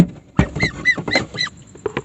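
Duck quacking hoarsely, a series of rough, raspy honking calls close by, several in quick succession with short pauses between.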